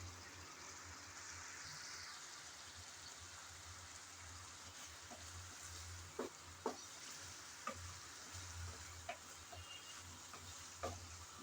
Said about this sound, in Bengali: এখন অপেক্ষা করব যেন ভালোভাবে চিংড়ি আর মশলা কষিয়ে আসে।